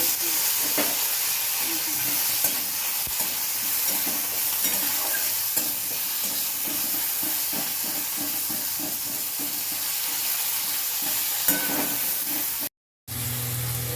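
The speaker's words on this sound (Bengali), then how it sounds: "এই যে আমি একটা ফোড়নে কাঁচা লঙ্কা দিয়ে দিচ্ছি। 2-4 কুচি টমেটো দিচ্ছি।" Green chilies and chopped tomato frying in hot tempering oil give a steady, close sizzle and hiss with occasional stirring scrapes, running continuously before a brief drop to silence near the end.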